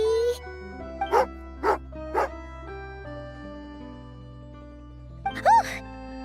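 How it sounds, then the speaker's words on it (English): An angry dog in the video game Genshin Impact barks three times in a quick sharp row, then gives one more bark after a pause, over game background music and voices. "angry doggy"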